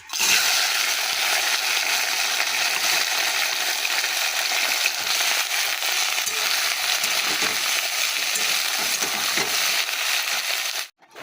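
Pumpkin pieces fry in hot oil in a pan over low gas: loud, continuous sizzling and crackling fills the clip, a steady spattering hiss with no voices.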